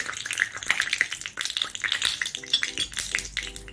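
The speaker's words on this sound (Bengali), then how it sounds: "এখানে আমি ঘি না গরম করে নিয়ে এসেছি, এতে 2 শুকনো লঙ্কা দিচ্ছি" Two dried red chillies sizzle in hot ghee in a pan, a close, steady crackling hiss with bright spitting pops and a few light clinks of a utensil against the pan.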